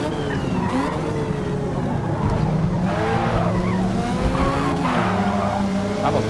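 Race cars in a racing video game, engines roaring together as tires squeal and skid under heavy braking in several rising and falling bursts over a constant loud drone.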